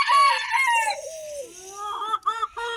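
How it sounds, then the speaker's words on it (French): A rooster crows loudly nearby, followed by a run of clucking calls from hens, close and clear with no talking. "Les petites poules."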